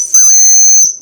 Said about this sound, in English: A fire starter, a ferro rod with a whistle.